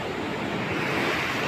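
Sea waves surging against a seawall under construction, a steady loud wash of surf with wind rumble on the microphone, close and continuous, no voices.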